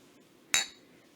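Beer glasses meet in one bright, sharp clink that rings briefly and fades in a quiet room.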